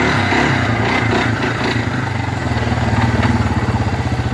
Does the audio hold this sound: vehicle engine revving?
yes